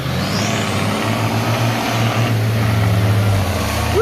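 A 60 series four-wheel drive stuck in a bog hole roars at steady high revs as its wheels spin in second gear, a loud continuous engine drone close by throughout, with no talk.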